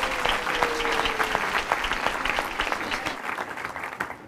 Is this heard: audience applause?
yes